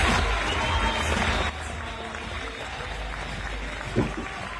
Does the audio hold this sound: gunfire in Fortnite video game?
no